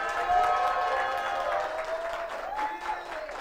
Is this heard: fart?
no